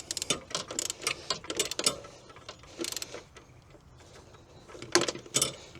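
Ratchet clicks from a bolt being tightened on the radiator of a 2005 Toyota Matrix XRS, coming in quick bursts of close mechanical clicking with short pauses between them.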